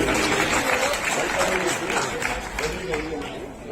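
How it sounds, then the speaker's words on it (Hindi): At a Bharatiya Janata Party conference in Mukundpur ward, Burari, Delhi, a crowd claps in a loud, dense wash that fills the room. Voices and crowd chatter run through it, and the clapping eases slightly toward the end. "इन सब के लिए जोरदार ताली बजा दीजिए।"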